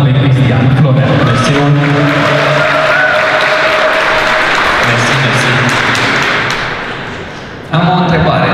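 A conference audience applauding a speaker being welcomed on stage at a business event, loud dense clapping filling the room continuously before tapering off near the end, with voices mixed in.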